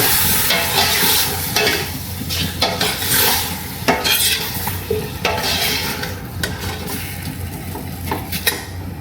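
Chicken sinigang with ginger being stirred in a pot, a spoon scraping and clanking against the metal in repeated strokes over a steady low simmering sizzle, close and fairly loud throughout.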